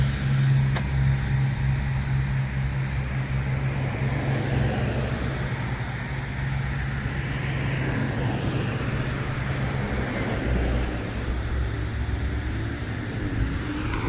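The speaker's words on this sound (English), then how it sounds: "Well, you can see all the traffic." Rush-hour road traffic on a suburban road in Pepper Pike, heard from a trail nearby as a continuous roar of passing cars and engines, swelling and fading as vehicles go by, with no talking.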